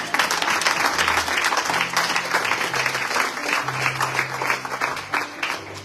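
A church congregation applauds and cheers the Lord, dense continuous clapping from a full room, loud and sustained throughout with a few voices mixed in.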